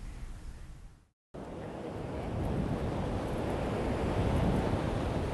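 Surf rolling onto a beach, a steady broadband wash with wind buffeting the microphone, briefly cutting out near the start before the waves return and build slightly louder.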